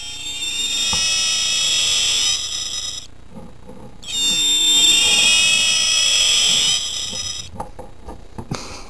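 A Jurassic Park Utahraptor toy plays harsh, shrill electronic tones in two loud bursts separated by a brief gap, followed by scattered clicks and a short warbling tail.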